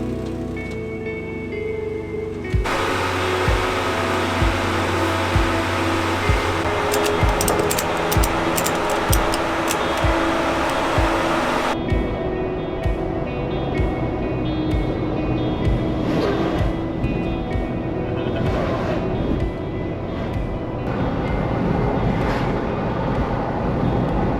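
A Jeep cruising on a highway through the Rockies, a continuous loud road drone and rushing wind noise with no break.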